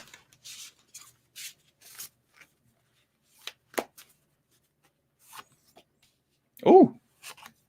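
Tarot cards being shuffled in short dry bursts of rustling and riffling, several separate passes spaced out with quiet gaps, ending in a louder, fuller riffle near the end.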